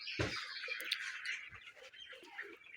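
Chickens on a poultry farm cluck and call faintly in the distance, their soft sounds scattered over a quiet background.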